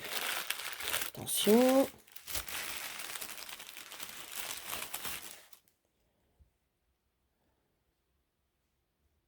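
Tissue paper crinkles and tears continuously up close while a present is unwrapped, with a brief spoken word partway through, then the rustling stops and the clip falls silent.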